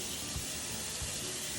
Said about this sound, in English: Now I'm gonna wash my hand real quick.